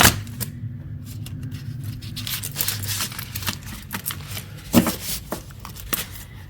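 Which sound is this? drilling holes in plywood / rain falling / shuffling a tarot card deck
shuffling a tarot card deck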